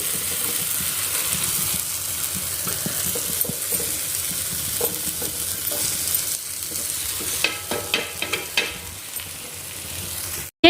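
Potatoes frying in a pan, a continuous close sizzle and crackle with occasional turning scrapes and a brief cluster of sharper clicks near the end, no talk.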